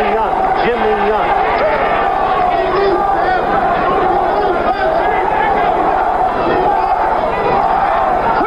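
Boxing arena crowd with a section chanting a fighter's name, loud continuous roar of voices and rhythmic chanting swelling under a ringside commentator's talk.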